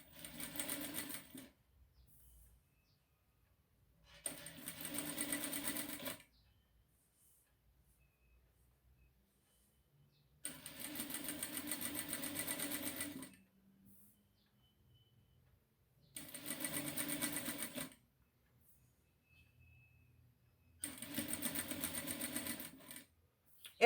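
Sewing machine stitching an embroidered cambric band onto a cloth diaper, running in five short separate bursts with quiet gaps between, soft and close.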